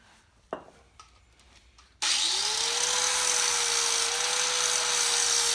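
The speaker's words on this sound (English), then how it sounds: "Grind it a little at a time." A grinder bites into steel tubing for a 1966 Chevrolet Nova race car roll cage, starting abruptly after a few light clanks and then whining loud and steady, its pitch holding level for several seconds.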